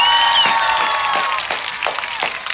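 Recorded crowd applause and cheering, loud and dense at first, then thinning into scattered claps, with a faint tonal sound running underneath at the start.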